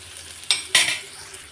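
Chana dal with onions and dried chilies fries in a pan on low heat, a soft sizzle under two sharp spoon scrapes in quick succession.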